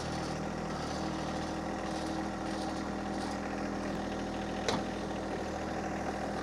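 A John Deere 1025R compact tractor engine runs at a steady idle nearby while firewood is prepared at home, a constant low drone with one brief knock partway through.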